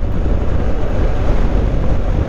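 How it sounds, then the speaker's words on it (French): Wind and motorway noise fill the inside of an Icon motorcycle helmet at speed with a light crosswind, a loud, continuous low roar and buffeting rush with no voices. "Rien que de l'autoroute là avec un petit peu de vent de côté, oh, laisse tomber le bruit de ouf"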